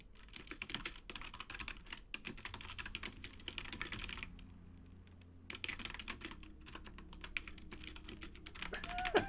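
Rapid, steady clatter of keys on a computer keyboard as a note is typed during an online poker game, close and fairly quiet, with a brief pause midway and no talking.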